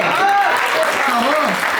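An audience at a Hindi poetry recital claps in a loud, continuous wash, with a voice talking over it.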